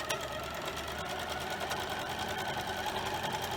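A sewing machine stitches quilt half-square triangle blocks from scrap fabric, running steadily and close by with a continuous motor whir and rapid needle rhythm, no talking.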